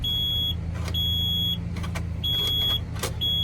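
A junkyard garbage truck engine cranks without catching, a steady low grinding churn held under repeated high-pitched warning beeps, close and loud throughout.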